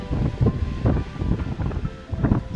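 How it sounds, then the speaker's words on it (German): Wind at a seaside pier on Fehmarn on a hike, rumbling across the microphone in irregular low gusts that swell and ease steadily with no voices. "auch bei schönem Wind."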